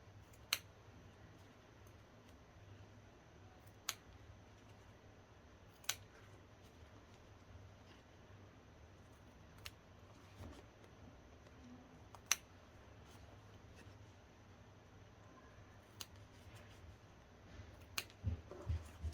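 Scissors snipping small corners off pieced quilt fabric, sparse sharp clicks spaced several seconds apart over a quiet room background, close but faint, with a few quicker snips near the end and no talking.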